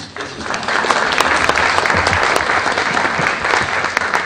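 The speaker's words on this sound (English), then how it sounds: "So you should give yourselves a round of applause" A gala audience at the Indo US Bridging RARE event in Virginia breaks into dense, sustained applause that fills the room steadily from start to finish.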